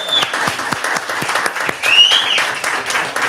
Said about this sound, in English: They're clapping for you, champ.